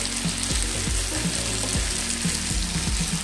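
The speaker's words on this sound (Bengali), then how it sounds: "এবার এটাকেও একটু নাড়াচাড়া করে নেব" Mustard-poppy paste being stirred in a frying pan over steady sizzling oil, with a spatula scraping the pan in a repeated rhythm of strokes, close and fairly loud, no voices.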